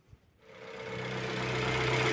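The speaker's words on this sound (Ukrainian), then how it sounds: "нам потрібно запустити двигун" A car engine starts up and settles into a steady idle during a pre-purchase engine check, a low continuous hum that grows slightly louder and holds.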